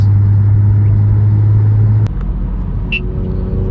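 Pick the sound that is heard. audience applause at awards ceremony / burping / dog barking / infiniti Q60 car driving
infiniti Q60 car driving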